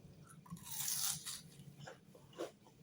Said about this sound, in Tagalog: titikman ko siya with the sauce